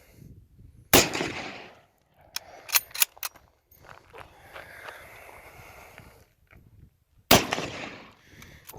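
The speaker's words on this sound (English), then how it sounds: "I will shoot this rifle all day." Two sharp, loud Mosin rifle shots crack at an outdoor range several seconds apart, each trailing into a short echo, with scattered clicks and handling noises between them.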